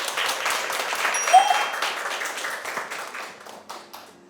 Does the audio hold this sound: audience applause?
yes